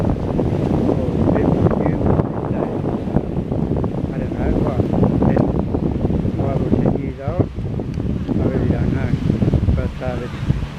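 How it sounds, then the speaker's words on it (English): Wind buffets the microphone outdoors beside an estuary, a loud, steady rumbling roar with gusty swells that runs throughout, while someone talks over it. "I'm out in the wind, so I hope you can hear me all right"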